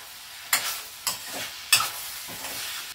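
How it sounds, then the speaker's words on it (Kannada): A spoon stirs mushroom capsicum curry with added pepper powder in a pan, four distinct scraping strokes over a soft, steady sizzle, close and clear. "ಈಗ ನಾನು ಪೆಪ್ಪರ್ ಪೌಡ್ರ್ ಸೇರಿಸಿ ಕಾಳು ಮೆಣಸಿನ ಪುಡಿ ಸೇರಿಸಿ ಮಿಕ್ಸ್ ಮಾಡಿದೆ"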